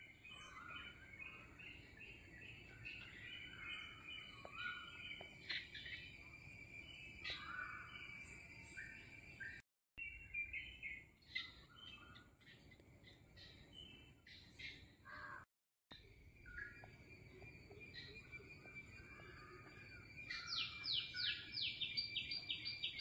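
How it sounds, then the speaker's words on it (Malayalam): Many birds chirp and call near a lake at Kumarakom, heard from a boat, over a steady low rumble, with high continuous insect-like trilling and a burst of sharp calls near the end. "ഒത്തിരി കിളികളുടെ സൗണ്ട്സ് കേൾക്കാം കേട്ടോ ഗൈസ്"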